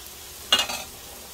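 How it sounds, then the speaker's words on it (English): Shrimp fried rice sizzling in a hot pan as rice is added and given a stir, one brief bright burst of frying noise followed by a softer second sizzle, then quiet. "adding our rice, and we're gonna start giving that a little spin, a little turn."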